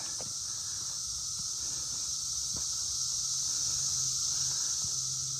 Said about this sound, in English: The cicada are especially loud right in this section.